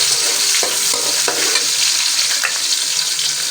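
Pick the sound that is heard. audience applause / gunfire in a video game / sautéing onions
sautéing onions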